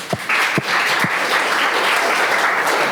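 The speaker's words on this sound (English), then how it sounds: "Please give another round of applause for yourself." Conference audience breaking into loud, dense applause after a few scattered opening claps, the sound building quickly and then sustaining at full strength.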